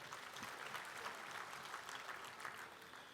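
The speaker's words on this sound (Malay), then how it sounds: "Beri tepukan pada mereka." An audience at an UMNO party assembly claps in steady, fairly distant applause that holds evenly throughout at a low level.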